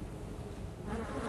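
Bingöl local ecotype honeybees buzzing steadily close by, a dense droning hum that swells slightly louder toward the end.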